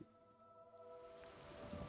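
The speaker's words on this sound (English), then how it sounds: "it's still raining" Steady rain falling in the game Oblivion Remastered, a soft continuous hiss with faint patter that swells slightly toward the end, heard alone with no talk.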